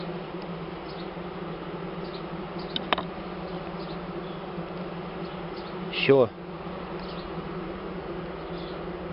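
A bee swarm nesting in a wooden ceiling gives a continuous low buzzing hum, with a few closer bees passing loudly near the microphone and a brief spoken word.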